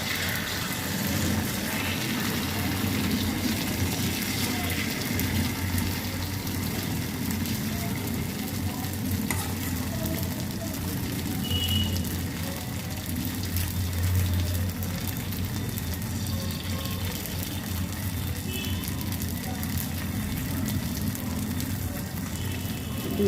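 Batter hits a lightly oiled frying pan and sizzles with a steady, crackling hiss that carries on evenly throughout, no talking.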